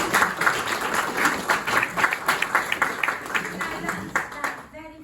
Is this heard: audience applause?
yes